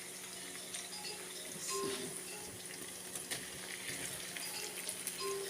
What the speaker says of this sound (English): So that's our beans going in there.